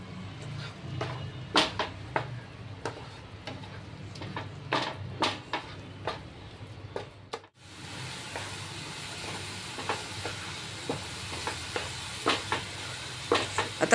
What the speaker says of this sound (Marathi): आलं लसूणची पेस्ट घातल्यानंतर सुद्धा आपल्याला हे चांगलं परतवून घ्यायचं.